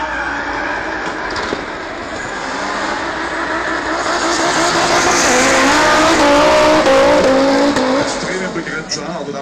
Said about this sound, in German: hier kommen 850 PS an bei diesem Volvo